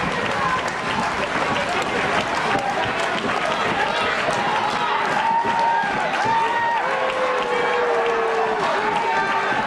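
Packed, sold-out crowd at an IWC Night of Legends wrestling event, cheering and clapping in a loud, continuous roar with whistles and shouts throughout, no break in the noise.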